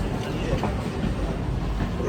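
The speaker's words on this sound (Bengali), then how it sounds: "বন্দে ভারত এক্সপ্রেস।" A Vande Bharat Express train produces a steady, close rumble of rolling wheels and body noise that holds without a break.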